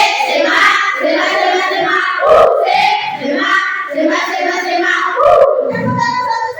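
Group of teachers or participants at an academic coaching session chanting together in rhythm with claps, voices loud and close, overlapping shouts and clap bursts throughout.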